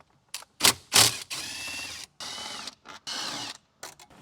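A ratchet or power driver backs out 10mm bolts holding the radio in a 2025 Toyota Camry dash, giving several short close clicking bursts and longer whirring runs separated by brief pauses.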